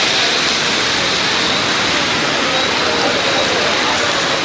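Heavy evening rain pours down over the city of Madurai, a loud, dense, unbroken hiss of falling water that fills every moment evenly and close by.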